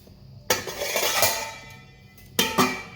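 A lid is set down on a pot of drained rice in a home kitchen, giving two sharp metallic clanks with ringing rattles and a short scrape between them, close and loud with no talking.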